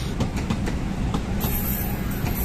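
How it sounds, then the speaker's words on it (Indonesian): A CC 206 diesel locomotive hauling a passenger train on an Indonesian railway passes with a steady loud rumble and rail noise, and faint rhythmic wheel clicks are heard throughout, with no talk. "Ini kereta apa nih, guys? CC 206 1365."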